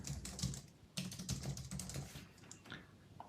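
Typing on a computer keyboard produces quick, irregular clusters of faint key clicks with short pauses between them.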